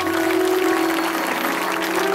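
Steady clapping from an audience after an organ-accompanied bhajan performance, a dense, even patter lasting throughout with a sustained organ tone held underneath.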